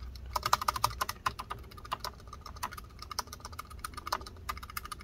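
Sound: MacBook butterfly keyboard keys clacking after hinge repair

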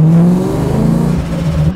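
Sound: Mustang drift car with SR20 engine revving while warming up

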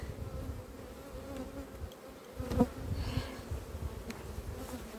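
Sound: honey bees buzzing at an opened beehive

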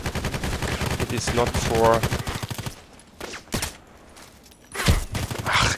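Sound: gunfire in the video game Contract Wars

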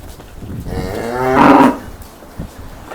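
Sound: cow mooing

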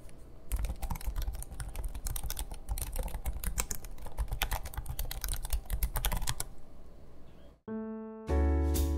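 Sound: typing on MSI Creator Z16 laptop keyboard

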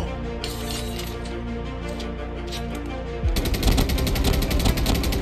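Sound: gunfire in a shooter video game

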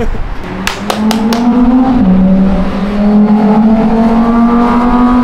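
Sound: loud cars revving below apartment building in Miami

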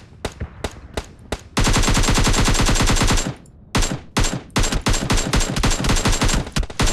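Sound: gunfire in the video game PUBG Mobile

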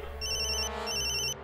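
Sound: telephone ringtone after placing a call

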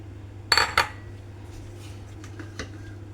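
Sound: dropping cut mango pieces into a mixer jar

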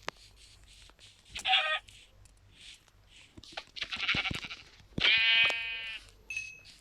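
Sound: sheep bleating in a video game

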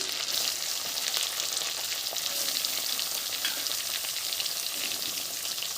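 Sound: dried red chillies and chopped onion frying in pan

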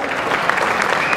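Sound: audience applause at a bodybuilding championship

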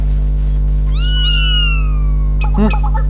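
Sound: cat meowing in a video game

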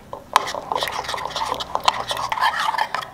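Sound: stirring a vegan sauce to mix it

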